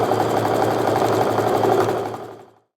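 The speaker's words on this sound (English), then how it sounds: "I'm just going to go ahead and sew my entire strip set together here." A sewing machine stitches a quilt strip set in one steady, fast mechanical whir with a rhythmic knocking pulse, close and loud, then winds down and stops near the end.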